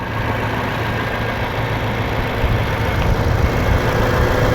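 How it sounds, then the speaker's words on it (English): A Lexus RC 200t with a 2-liter turbocharged four-cylinder engine idles, a steady close engine hum that swells slightly near the end, no voices. "when it's sitting here running, it sounds just like one of our V6 engines"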